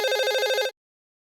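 A landline telephone rings in a rapid trilling burst that stops abruptly after less than a second, followed by silence.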